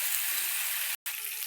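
Spoonful of masala and a pinch of turmeric frying in hot oil, a steady close hiss and sizzle that cuts out for a split second and resumes slightly softer.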